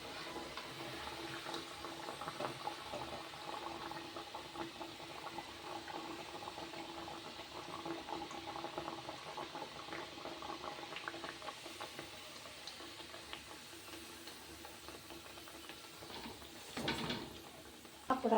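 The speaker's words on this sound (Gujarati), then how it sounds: "તળવાનું ચાલુ કરી દીધું છે." Thepla flatbreads fry in hot oil for a festival meal, giving a steady, close bubbling hiss that runs unbroken for the whole stretch, with a brief clatter near the end.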